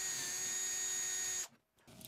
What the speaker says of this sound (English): now I can pre-drill the hole